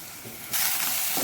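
Chopped medium onion sizzling in olive oil in a pan, a steady close frying hiss that suddenly swells louder midway and continues.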